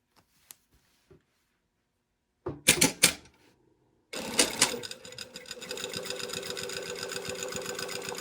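A sewing machine stitches a collar seam, starting with a few brief clicks and short bursts of running, then settling into a steady, fairly close mechanical whir that continues to the end.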